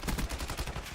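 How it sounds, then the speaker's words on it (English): Rapid, loud gunfire from a hand cannon in a multiplayer video game, with several sharp shots in close succession filling the second with no talk over them. "Hand cannon going hot."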